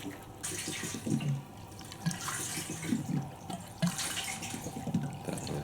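Fuel pours into a motorcycle tank, a continuous splashing, gurgling trickle close by with intermittent sloshing bursts and changes in flow.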